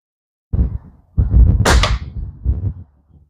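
A 1973 Sheridan Blue Streak air rifle fires once, a sharp, close report surrounded by dull handling thumps and clatter.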